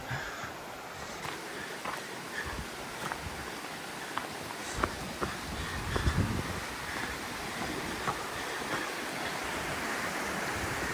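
A creek flows beneath a trail bridge in Tennessee, giving a steady broadband wash of running water with a light breeze, close and even throughout, without talk.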